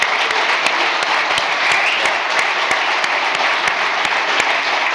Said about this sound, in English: another round of applause for the fastest ever road racer, Peter Hickman.